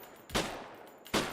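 Two sharp gunshots fired in the zombie survival game Persist Online, each a loud close crack with a short fading tail, spaced under a second apart.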